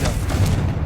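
Hogwarts Legacy's Confringo fire spell bursting in a dense, sustained boom about a second long, heavy low-end rumble holding steady throughout with no voice over it.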